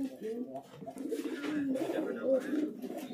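Fancy pigeons with long feathered feet cooing softly in a breeding loft, a steady low murmur of overlapping coos, moderately close, with some voices talking nearby.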